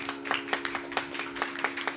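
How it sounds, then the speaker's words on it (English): Brief clapping from an audience at a music academy Salangai Poojai dance event, a short run of fairly sparse, distinct hand claps over a steady tonal hum. "Let's give her a good round of applause."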